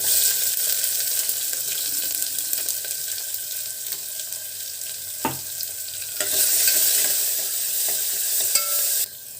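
Mustard seeds, fenugreek, cumin, curry leaves, onion and garlic sizzling in hot oil for an Andhra-style ridge gourd curry, a steady close hiss with a few brief clatters and stirring sounds.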